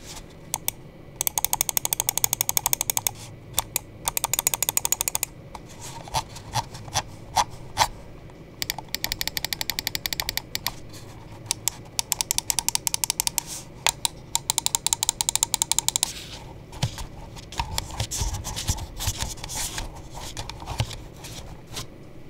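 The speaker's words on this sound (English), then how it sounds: "let's go ahead and drop a click and quality sound check" A VXE Dragonfly R1 Pro Max gaming mouse clicks in rapid, crisp bursts of sharp ticks, starting and stopping in clusters with brief pauses, close and dry with no talking.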